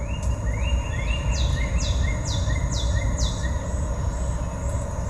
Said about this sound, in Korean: 이게 생기 넘치는 숲소리입니다